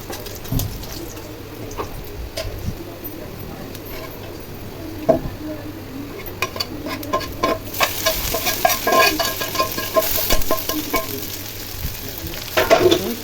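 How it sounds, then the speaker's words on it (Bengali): Garlic frying in a pan on a home stove gives a steady close sizzle with stirring scrapes that grow busier and louder in the second half, with no talk over it. "এখন আমি রসুন বসাই দিছি মানে রসুন চুলাই দিছি রসুন একটু ভাজা ভাজা হলে"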